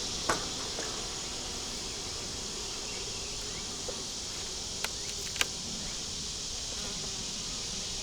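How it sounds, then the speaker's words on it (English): A honey bee buzzes around a hive frame in a deep eight-frame box. The buzzing is a steady, close drone, and a few faint clicks and taps break through it. "we have a little bee here that wants to play"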